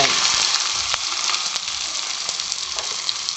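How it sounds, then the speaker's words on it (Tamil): Steady, crackling sizzle of onions frying in hot oil with green chillies and curry leaves, occasional sharper pops and stirring clicks, close and fairly loud with no talking. "வெங்காயம் நல்லா வதங்கிடுச்சு ஃப்ரெண்ட்ஸ்"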